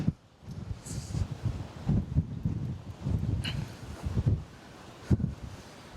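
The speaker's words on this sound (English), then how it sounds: "the microphone will struggle with this wind" Strong coastal storm wind on the Norwegian shore buffets a microphone clipped to a cap, producing low rumbling gusts that surge and drop in uneven waves, loud and close, with no voices.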